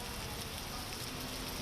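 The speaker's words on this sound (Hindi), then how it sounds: "मूसलाधार बारिश हो रही है।" Heavy rain pours down in Delhi as a dense, steady hiss that holds even and loud for the whole stretch, with no voices over it.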